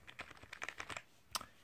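Light taps on the padded keys of a Tecknet Kraken keyboard, a close, quick run of soft clicks with one sharper tap near the end, heard alone without talk.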